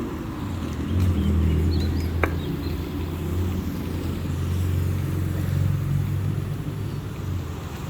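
Low engine rumble of a small car passing along a quiet Pattaya street in the morning, swelling and fading over several seconds, fairly close, with a faint distant bird chirp.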